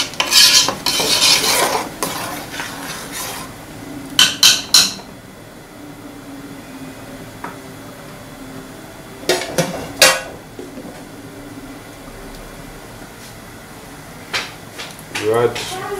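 Pomo being stirred into a pot of gbegiri, a Yoruba bean soup, with scraping utensil and pot clatter in bursts, loud at first, then quieter with sporadic clinks; someone talks in places.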